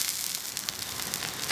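Broccoli dropped into a hot pan after steak, giving a loud continuous hiss and sizzle of frying throughout, close and steady with no voices.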